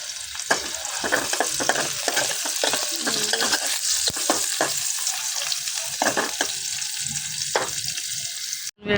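Vegetables stir-frying in a pan at home, with steady close sizzling broken by repeated scraping and stirring clatters of a utensil, no talking.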